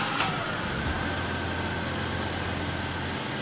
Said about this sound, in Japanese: エンジンが乗ったので、 かけていってみたいと思います。